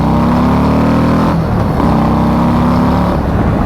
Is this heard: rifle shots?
no